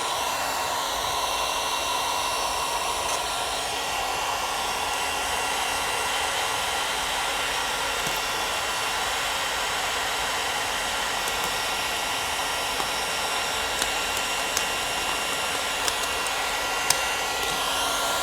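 A heat gun warms car window tint film for removal on a Rivian R2, blowing a constant, loud airy roar with a faint whine that runs unchanged for the whole eighteen seconds.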